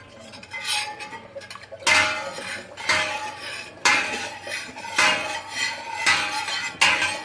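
A spoon clinks and scrapes around the inside of a metal pot of kombucha, making repeated bright metallic strokes at a steady rhythm, close up. A faint voice is under the stirring.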